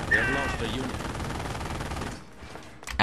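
Sustained machine gun fire in a Company of Heroes match, continuous and fairly loud for about two seconds, then dropping away to a quieter pause before a final short burst.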